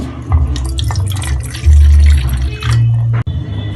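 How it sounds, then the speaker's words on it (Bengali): Water poured into a cooking bowl in a kitchen, a loud, close splashing and filling stream in bursts with short pauses, ending in a brief clunk. "একটি পাত্রে নিয়ে নিচ্ছি জল"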